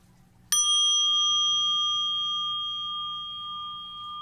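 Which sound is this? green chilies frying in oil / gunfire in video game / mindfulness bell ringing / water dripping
mindfulness bell ringing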